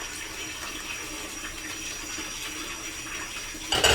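Warm water pours steadily from a kitchen tap while a flan pan is prepared, a constant moderate splashing hiss that swells briefly at the very end.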